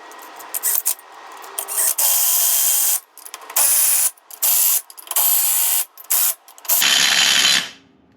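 An impact wrench fitting wheel spacers on an ATV, firing in about eight bursts of harsh rattling hammering with short gaps between them, loud and close, the last burst longest before it winds down.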